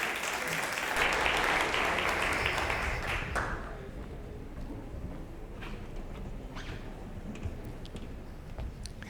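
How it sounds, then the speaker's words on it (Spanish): Applause from an audience at a connectivity forum conference, welcoming a speaker: a loud, thick round of clapping for about three seconds, then fading to scattered claps and faint room noise. "Le recibimos con un fuerte aplauso a don Rodrigo, por favor."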